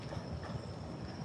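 A horse pulling a sleigh past Christmas-decorated campsites at Fort Wilderness, its hooves clip-clopping steadily and fairly close over a constant outdoor background hum.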